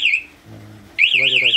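Motorcycle alarm on a Kawasaki KLX sounds after a forced ignition, a loud warbling electronic siren that chirps briefly, pauses while a voice talks, then resumes loud and close.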